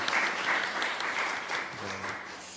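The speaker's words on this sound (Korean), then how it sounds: "이번에 진짜 꼭 가시기를 박수로 환송합니다" Church congregation at a Sunday worship service applauding together, a steady round of clapping that fades slightly toward the end, with a brief low tone near the close.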